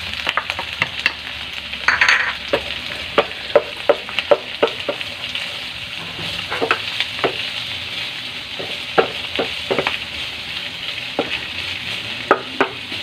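Garlic and onion sizzle steadily in a pan for a chicken and cauliflower stir fry, with a broad frying hiss broken by frequent sharp clicks and taps of a spatula stirring throughout.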